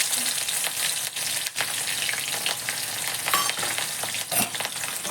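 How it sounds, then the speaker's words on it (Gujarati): Onion and a few small green chillies sizzle in oil with mustard seeds and asafoetida, the tempering for poha, making a loud, dense, continuous frying hiss with brief spitting crackles, close by. "અંદર થોડી હિંગ એડ કરી દઈશું અને એક કાંદો લીધો છે અને 2-3 નાના નાના મરચાં લીધા છે."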